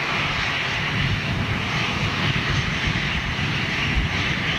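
Ex-Brussels jet airliner in a new Flybe livery flying past, a steady, loud broadband engine roar held throughout with no talk.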